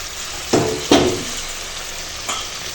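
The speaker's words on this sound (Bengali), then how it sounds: "দেখো এখন ঝোলে জাল উঠে গেছে আর দিয়ে দেবো ওই ভেজে রাখা পমফ্লেট" Fried pomfret fish pieces are dropped into a boiling spiced curry, giving two close, loud sizzling splashes in quick succession and a softer third a moment later, over a steady bubbling hiss.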